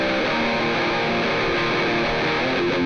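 Distorted tube amp electric guitar played through a Korn-style cab simulation impulse response, a dense, chunky mid-range tone with sustained chords filling the whole stretch, loud and steady with no talking.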